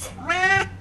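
A cat meows once in a studio apartment, a short, clear, tonal call that rises and falls, close to the listener in a quiet room.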